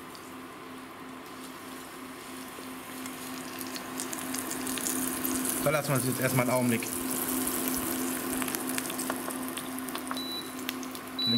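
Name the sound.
salmon fillet frying in a pan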